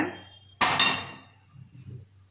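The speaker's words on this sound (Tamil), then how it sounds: "அதுக்கடுத்து ஒரு இரும்பு கடாய் ஒன்று எடுத்துக்கோங்க" A sharp metallic clank as a heavy iron wok is set down, ringing briefly, followed by quieter shuffling handling noises nearby.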